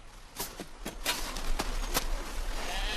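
Sheep bleat in the snow, with several short, separate calls spread across a few seconds against a steady outdoor background hiss.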